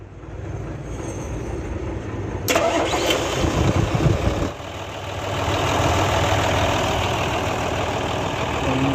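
A Hino truck engine is started after a compressor repair: the starter cranks, the diesel catches with a loud burst, then settles into a steady, rumbling idle close by.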